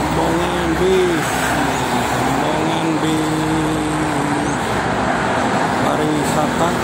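Tourist buses rolling past on a road, a steady loud engine rumble with a rising and falling drone, while someone talks over the passing traffic.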